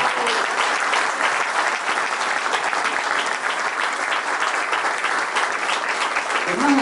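Applause from an audience at a political list presentation in Carlos Paz, a dense, continuous clapping that stays level and fairly loud throughout, with a voice briefly surfacing near the end.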